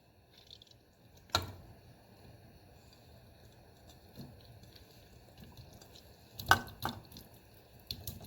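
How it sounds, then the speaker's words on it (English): Gooseberries and salt drop into a pan of water in a kitchen: a few soft splashes and plops, one early and a pair later, separated by faint, quiet handling sounds. "To this I am going to add in the gooseberry and then add salt to it."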